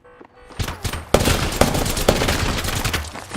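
Rapid bursts of video game gunfire crackle in quick succession, loud and close, with sharp impacts repeating through a dense, noisy firefight.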